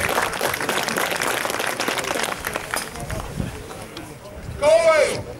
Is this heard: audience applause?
yes